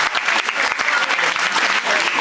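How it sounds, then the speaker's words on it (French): Applause from an audience thanking the organisers of a sports event in Terrasson, dense steady clapping filling the whole stretch at close, even loudness. "Donc on peut, les applaudir déjà pour l'organisation."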